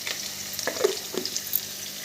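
Chopped vegetables frying in a pan with salt, giving a continuous close sizzle broken by a few soft stirring knocks and scrapes.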